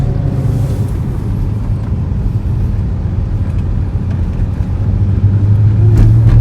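A Corvette driving, its engine a loud, steady low rumble with road noise throughout, no voices over it.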